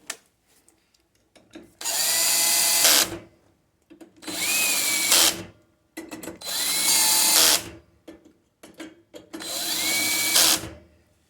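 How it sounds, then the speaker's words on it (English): A power drill driving screws, clutch set to 4, whirs in four separate bursts during a Dyna-Glo Pro heater repair, each about a second long with a pitch that climbs and settles, divided by short quiet gaps. "I have my drill turned down to like setting of 4 on the clutch"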